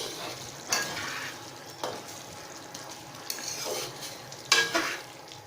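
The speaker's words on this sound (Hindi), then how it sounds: "अब हम इसको मीडियम टू हाई आंच पर अच्छी तरह से पका लेंगे।" Chicken curry cooking with tomatoes over medium-high heat, a steady sizzle broken by several sharp scrapes and clanks of a spoon against the pan, close and clear with no speech.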